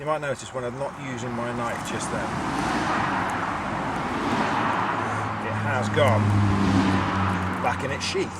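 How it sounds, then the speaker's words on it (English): Busy road traffic with cars passing close by, a steady wash of engine and tyre noise running under someone talking outdoors during a bushcraft session. "I do apologise for the road noise."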